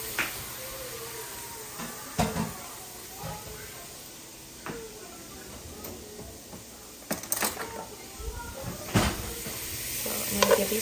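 Vegetables for a fagioli soup sautéing in a pot, a soft low sizzle with intermittent spoon scrapes and knocks as they are stirred, fairly quiet and close.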